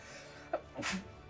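A single short human sneeze during a game session, a brief burst close to the microphone, heard alone without talk over it.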